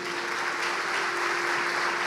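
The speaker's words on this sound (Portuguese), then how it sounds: "Você pode dar um aplauso ao Senhor?" A church congregation applauding, a dense continuous roll of many hands clapping at steady loudness throughout, with a faint constant tone underneath.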